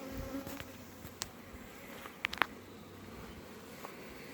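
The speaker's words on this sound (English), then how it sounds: "there's quite a few bees in here, but there could be more" Honey bees buzz faintly in and around a hive during queen-rearing work, a low steady drone with a few brief close passes, and a couple of small clicks.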